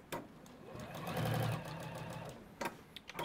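A sewing machine back stitches as sleeves are sewn onto a garment of light Lurex and viscose fabric, running steadily for about a second and a half before stopping, followed by a few small clicks and handling sounds.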